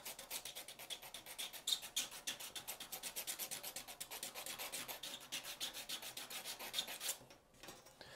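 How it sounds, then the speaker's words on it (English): A tool is drawn softly back and forth over a surface, making a rapid, even series of close, quiet rasping scrapes that continue for several seconds and then stop. "I'm just going to really softly come back and forth. I can always scrape a bit more"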